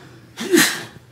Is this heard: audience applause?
no